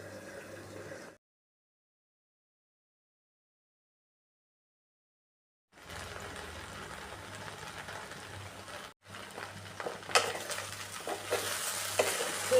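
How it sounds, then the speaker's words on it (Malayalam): Grated coconut roasts in a pan with chili powder and coriander powder, giving a soft sizzle under steady stirring and scraping. A short silent gap breaks it, and the scraping grows louder and busier toward the end. "ഈ തേങ്ങ ഇതുകൊണ്ട് നല്ലപോലെ നരച്ചെടുക്കാം."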